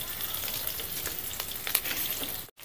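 Green chillies frying in onions in a pan, a dense continuous sizzle with small crackles and pops, close and steady, cutting off abruptly for a moment near the end.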